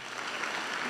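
Congregation clapping hands during prayer in church, a brief dense burst of continuous applause.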